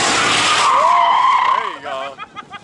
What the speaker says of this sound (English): That thing had a mean one wheel peel. It was like fully spinning.